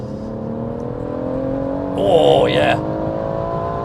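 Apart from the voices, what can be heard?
BMW M140i engine accelerating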